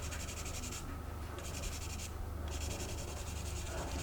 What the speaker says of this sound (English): we'll just gently sand this down